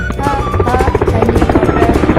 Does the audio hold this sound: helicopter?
yes